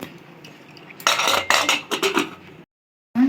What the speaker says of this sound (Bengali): এবারে প্রেসার কুকারের ঢাকনাটা আমি এঁটে দিচ্ছি